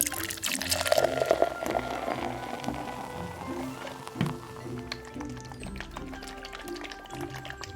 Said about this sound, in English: pour some water in